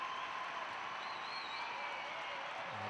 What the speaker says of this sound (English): hearing that great roar from the Granada faithful.